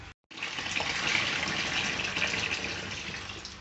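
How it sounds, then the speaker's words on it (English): Hot water gushing steadily from a tap into a bucket, a loud continuous splashing rush after a brief silent start. "I'm just getting some hot water now"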